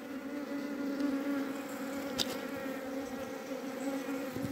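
Honey bees swarm and buzz around a wild, queenless hive, a dense, steady drone close by that holds even throughout, with no voices.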